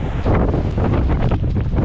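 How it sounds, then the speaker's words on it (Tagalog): Strong gusting wind roars continuously across the microphone, buffeting steadily and loudly with no voices, as a typhoon approaches but has not yet arrived. "Lakas ng hangin"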